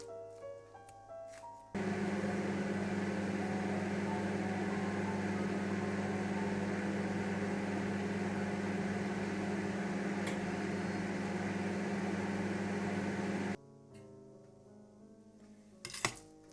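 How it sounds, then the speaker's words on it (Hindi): A steady electric hum of a microwave oven heating khoya for about twelve seconds, starting and stopping abruptly, with faint clinks before and after. "इसे मैं 1 मिनट के लिए और माइक्रोवेव में रखूंगी।"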